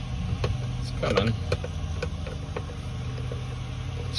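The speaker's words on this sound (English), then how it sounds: "Excuse the mower noise." A lawn mower runs steadily outdoors as a constant low engine drone, with some nearby clanks and taps over it.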